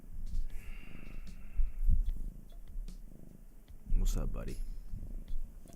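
A cat purrs close by in a quiet room, a soft, rhythmic rumble running beneath a man's speech, with brief louder rustles partway through.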